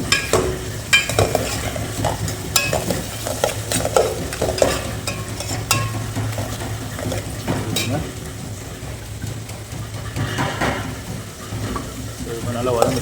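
Five or six green chillies sauté in oil in a pan for a fish curry, a soft continuous sizzle with repeated scraping and clinking of a stirring spoon close by, and a voice talking at times.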